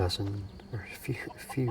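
Chickens cluck in short bursts outside a small farmhouse in the game Skyrim, soft and fairly close, while a person speaks quietly over them.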